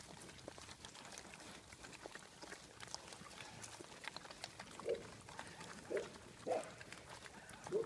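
Quiet, wet smacking and chewing noises of pigs eating, with a few soft grunts near the end over a faint background hiss.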